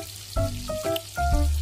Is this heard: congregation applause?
no